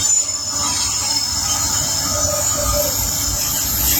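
A long coal train rolls past at Quinnimont, West Virginia, its wheels squealing in a steady high-pitched whine over a continuous rumbling rumble of railcars close by.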